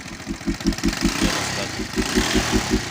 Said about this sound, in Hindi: बाइक आपका स्टार्ट हो गया है।